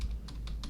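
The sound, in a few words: typing on a computer keyboard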